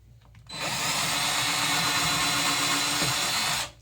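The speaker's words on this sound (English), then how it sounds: "going to put on a small bit to make pilot holes" A power drill fitted with a small bit bores pilot holes into a wall for anchors, a steady loud whine running about three seconds before cutting off.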